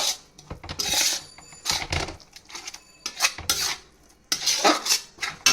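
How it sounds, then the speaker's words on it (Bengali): A spice paste mixed with yogurt and a little sugar is beaten in a bowl, producing bursts of scraping and clinking utensil strokes against the dish separated by short pauses. "এবার সব একসাথে ভালো করে মশলাটাকে ফেটিয়ে নিলাম"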